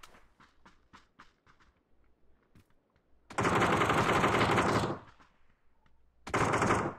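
Gunfire in the battle royale game PUBG: after quiet footsteps and faint ticks, a long loud automatic burst rattles close by, stops, and a second burst follows a moment later.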